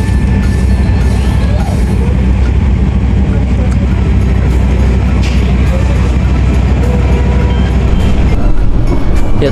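A loud, steady rumble of an economy passenger train pulling into Jatibarang station, Indonesia, rolling along rails with metallic squeals and clatter as it slows.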